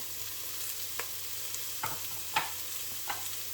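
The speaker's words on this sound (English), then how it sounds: "we're just going to leave that to fry just for a couple of minutes" Food fries in a pan ahead of grated ginger and garlic going into a low-oxalate lentil and cardamom soup, giving a steady close sizzling hiss broken by a few soft stirring clicks.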